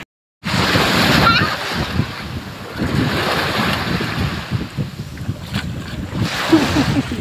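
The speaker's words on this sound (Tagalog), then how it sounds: "Sobrang lakas ng alon." Strong ocean waves breaking at a beach in Tuburan, a loud continuous roar of surf with heavy wind buffeting the microphone, sustained and near for the whole stretch after a brief silent start.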